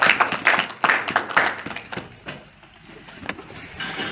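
A church congregation bursts into clapping, loud and rhythmic at first, then thinning into scattered claps before a brief swell at the end.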